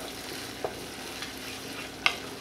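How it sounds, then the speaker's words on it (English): A spoon stirs a hot African stew in a pot over a low, steady simmering hiss, with a few faint scrapes and one sharper clink near the end. Nobody speaks. "I'll stir this around"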